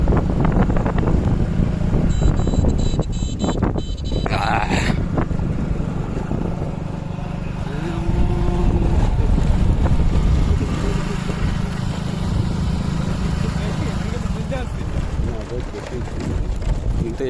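Wind gusts across open fields near a wetland in Ujalpur village, Chuadanga, buffeting the microphone in a loud, steady low rumble with occasional swells. Voices chat faintly over it.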